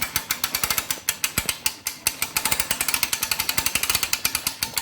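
A Fulton trailer winch being hand-cranked during installation, giving a rapid run of sharp ratcheting clicks from the pawl, steady and close, alone without talk.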